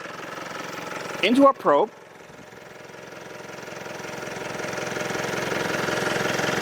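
A car engine idles with a low, steady rumble, growing gradually louder as the unfiltered exhaust is fed into a probe, with a brief spoken remark near the start.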